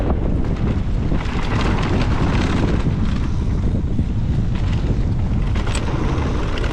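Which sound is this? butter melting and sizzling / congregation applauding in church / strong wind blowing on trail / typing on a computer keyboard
strong wind blowing on trail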